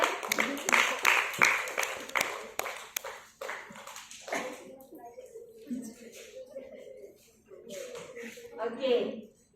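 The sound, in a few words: classroom applause for a student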